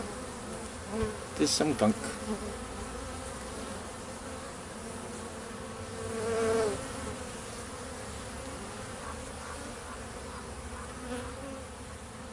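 Honey bees buzz around a hive during an orientation flight, a continuous droning hum with several louder passes as bees fly close by.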